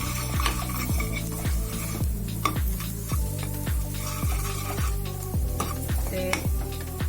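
Onion fries with red chili, salt and masala for Punjabi-style rajma in a pan. A spoon stirs it in a steady rhythm of repeated knocks and scrapes against the metal over a continuous loud sizzle.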